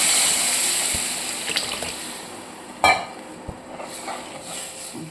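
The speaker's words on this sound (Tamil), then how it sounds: "நம்ம வச்சுருக்க புளி தண்ணியை ஊற்றி" Tamarind water pours and splashes into a pan alongside soft clinks of metal utensils, with a brief louder clatter midway; no one speaks.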